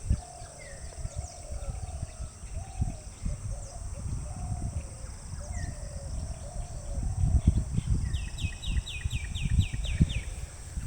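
Small, colorful birds call repeatedly in Sri Lanka, overlapping chirps and short whistled phrases at moderate distance over a low outdoor rumble, with a faster run of high tweets near the end.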